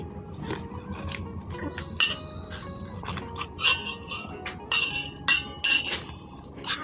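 A spoon clinks against a bowl several times while baking powder is added for an eggless orange sponge cake, with sharp metallic taps scattered over a soft kitchen background.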